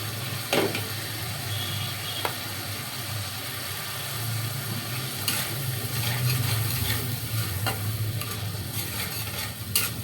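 Shrimp frying in a pan with pumpkin curry, a steady sizzle and soft crackle with occasional stirring scrapes and clinks, close and continuous, no voices.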